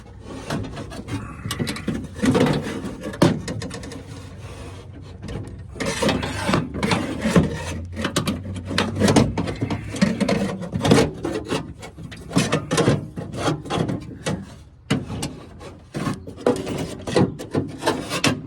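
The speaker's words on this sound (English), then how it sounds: "we got to move the glass up, I believe, now to get it where we can slide the window regulator out" Car window glass and its manual regulator slide and scrape inside the door of a Chrysler Cordoba, giving loud continuous rasping, rubbing and knocking with frequent sharp clunks, close up and with no talk.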